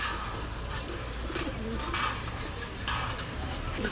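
Kaldom pigeons offered for sale cooing in a busy market setting, soft repeated coos mixed with steady crowd chatter and background bustle.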